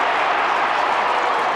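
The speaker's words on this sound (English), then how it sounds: "Well, the crowd's coming to life because the Saints have mounted a late charge in this third quarter." Football crowd at a 1994 St Kilda v Footscray AFL match roaring steadily as the Saints mount a late third-quarter charge, a dense, continuous wall of cheering with no break.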